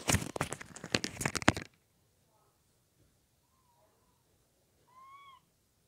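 Loud, dense crinkling of a Reese's cup plastic wrapper for about a second and a half, close up, then near silence with a few faint squeaky tones.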